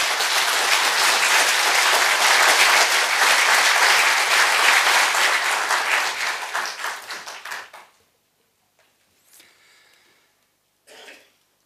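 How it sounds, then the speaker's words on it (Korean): A large Korean forum audience welcomes a former party leader with loud, sustained applause that thins into scattered claps and stops around the eight-second mark. A few faint coughs and rustles follow in the quiet. "큰 박수로 문 전 대표님을 맞이해 주시기 바랍니다"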